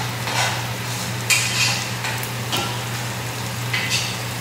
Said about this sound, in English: I also got my noodles over here. I just keep constantly stirring them.